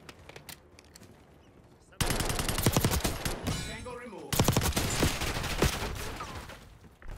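Rapid automatic gunfire in a Call of Duty-style shooter during a Dark Matter camo grind, near and loud in dense bursts after a quiet opening, with a brief lull mid-way before firing resumes.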